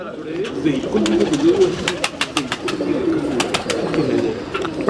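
Pigeons cooing in low, rolling murmurs close by, continuous throughout, with scattered sharp ticks and clicks over the top.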